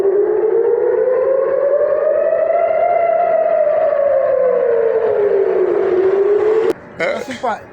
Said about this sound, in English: It's the dome system that is alarming.